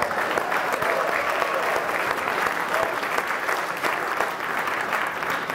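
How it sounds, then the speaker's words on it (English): An audience at a breakfast gathering bursts into loud, sustained applause, a thick even wash of many hands clapping without pause throughout. "I need for you to clap about that."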